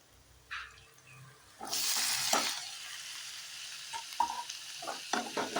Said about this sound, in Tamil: தேவையான அளவுக்கு வெங்காயமெல்லாம் போட்டு வதக்கிடலாம்